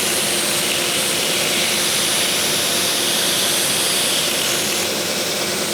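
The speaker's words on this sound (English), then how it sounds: "And you can see where I touched it to the belt sander right there." Belt sander grinding a workpiece under light pressure, a loud, steady broadband roar with sanding hiss that runs unbroken and close throughout, with no talk.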